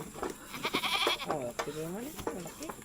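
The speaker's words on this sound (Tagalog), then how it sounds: "Daming kambing." Several goats bleat in wavering, harmonic cries, some overlapping, on a farm where goats are being bought; people talk nearby throughout.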